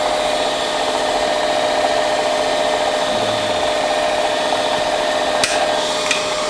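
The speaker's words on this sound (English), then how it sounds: "So I put in a starter drill. This is a carbide drill bit" A carbide drill bit drills a starter hole, a steady grinding, rubbing whir with a constant tonal hum, joined near the end by a couple of sharp metallic clicks, with no speech.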